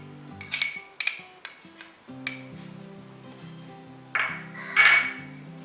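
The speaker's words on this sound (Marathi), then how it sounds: "पुरणासाठी जी नवीन चाळण निघाली आहे त्याच्यावरच मी हा चक्का फेटून घेणार आहे" Strained yogurt (chakka) for shrikhand is beaten on a new metal sieve, giving sharp, irregular metallic clinks and ringing pings, a few quick taps then sparser hits with quiet gaps between, close by and with no talking.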